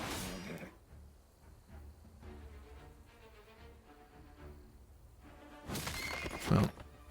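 A horse neighs in the fantasy strategy game Heroes of Might and Magic: Olden Era, a loud whinny near the end after soft game music, with a brief noisy burst at the start.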